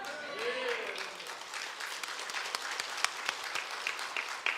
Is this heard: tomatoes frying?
no